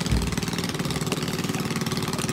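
A Volvo four-cylinder petrol inboard engine runs steadily aboard a 4.9 m boat, its loud, continuous, throbbing drone close by and alone, with a rapid regular pulse throughout.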